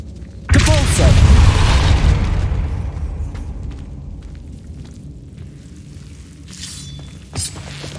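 Depulso spell cast in Hogwarts Legacy, a sudden loud blast with shattering crash and rumbling debris that fades over several seconds, followed by a smaller sharp impact.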